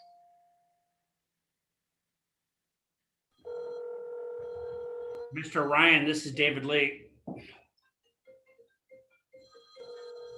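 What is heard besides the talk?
telephone ringing on a conference call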